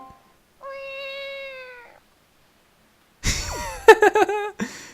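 Link in The Legend of Zelda: The Wind Waker HD imitates a cat with a long drawn-out meow, then after a pause a series of short, high meowing cries in quick succession.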